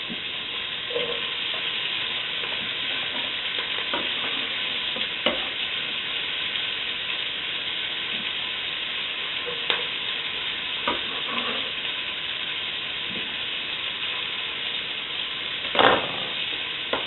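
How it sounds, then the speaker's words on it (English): Onions sautéing in hot bacon grease in a pan for a red chicken stew, a continuous sizzle with occasional stirring clinks and scrapes, close and steady, with no one talking. "Now we're going to saute these onions."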